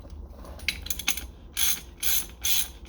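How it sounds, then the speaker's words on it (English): A ratchet clicks in short bursts while tightening the fork cap on an Apollo pit bike fork, first a few scattered light clicks, then three louder, sharper runs of rapid ratcheting, close up with no voices. "Actually, I'm going to tighten the cap on here first."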